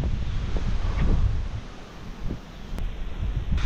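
Strong wind beside the Pacific Ocean at Dingalan, Aurora, roars in a continuous, loud rush and buffets the microphone in low gusts, with no voices heard.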